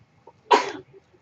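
A single short, sharp sneeze bursts out close to the mic in a quiet room, alone with no talk around it.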